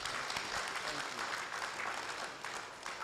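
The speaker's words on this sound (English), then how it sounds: "another round of applause" Audience at an annual general meeting of a philanthropic family gives a round of applause, a continuous dense wash of clapping with voices mixed in.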